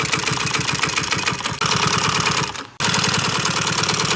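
Heavy-duty sewing machine stitching pontoon boat seat upholstery, a loud rapid mechanical chatter running steadily with two brief stops, close and unaccompanied by talk.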